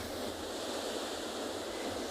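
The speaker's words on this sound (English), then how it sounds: "you can see we've got massive waves crashing in today" Big ocean surf on a penguin beach with a swell over four meters, a continuous loud roaring wash of breaking waves mixed with wind.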